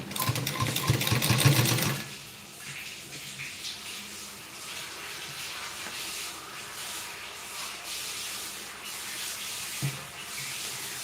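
A sewing machine stitches a blouse hook strip with a fast, steady mechanical whir up close, then stops, leaving soft fabric handling and faint room noise.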